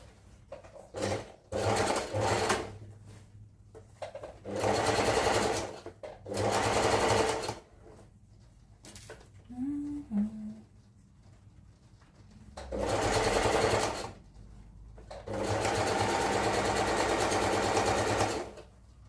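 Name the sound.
sewing machine stitching a seam on baggy pants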